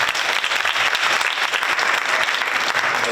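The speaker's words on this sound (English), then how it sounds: "Let's give them a round of applause again" Audience at an elementary school renaming dedication ceremony applauds the students, a steady, dense wash of many hands clapping at full volume throughout, with no break.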